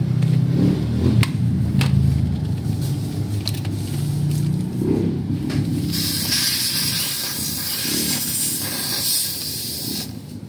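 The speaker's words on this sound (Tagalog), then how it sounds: "tetestingin na natin yung ating rechargeable na compressor galing sa LW Mall" Rechargeable portable air compressor running while inflating a tire, a steady loud hiss and motor hum close by, with a brighter hissing band joining partway through, no talking.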